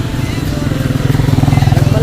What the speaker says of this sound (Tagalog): Ayun na si Joey, babalikan niya yung motor.